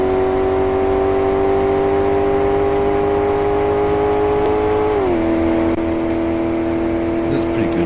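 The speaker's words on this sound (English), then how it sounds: "Massively powerful engine and a very light frame." A massively powerful engine in a very light car in Car Mechanic Simulator 2018 holds a loud, steady high rev for several seconds, then its pitch drops slightly and settles, with no talk over it.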